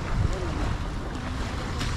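Ocean waves at the seashore near Melbourne, a steady wash of surf under gusty wind buffeting the microphone. The sound is continuous and moderately loud, with no clear speech.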